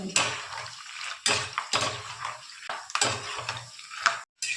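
Peanuts frying in hot oil in a home kitchen pan, a steady close sizzle broken by repeated metallic scrapes and stirring clatter of a utensil against the pan.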